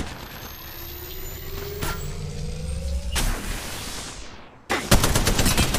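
Gunfire in the mobile shooter Apex Legends Mobile: a few sharp shots over a steady ambient hum, then a loud rapid burst of automatic fire at the end.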